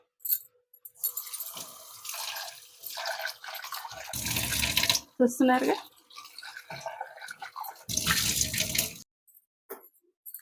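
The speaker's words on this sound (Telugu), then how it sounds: "కొంచెం నీళ్ళు వంపేసి" Water from a kitchen tap splashes and runs in bursts while a non-stick steamer is rinsed at the sink, with metallic clinks and a person speaking between the pours.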